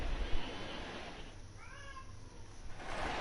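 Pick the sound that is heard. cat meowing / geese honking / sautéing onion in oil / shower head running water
cat meowing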